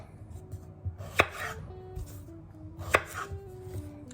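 A knife chops small potatoes into quarters on a board, giving two sharp, distinct cuts about two seconds apart, with soft handling noise around them. The cuts are close and clear, and no one talks.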